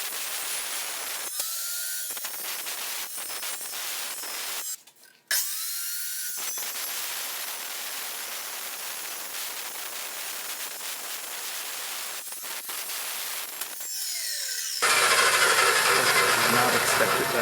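A power saw cuts metal stock for a portable welding fixture table, making a sustained loud, harsh cutting roar that breaks off in a few short pauses and then changes tone near the end, with no talking.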